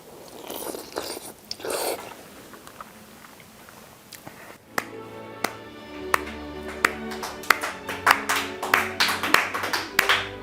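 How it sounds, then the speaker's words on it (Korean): After a satisfying delivered meal at a mukbang broadcast in Sangam, people break into applause, a quickening series of sharp claps that grows denser and louder following a quieter stretch of small crunchy eating noises. "진짜 맛있거나 진짜 만족스러운 식사 하면 박수 치거든요"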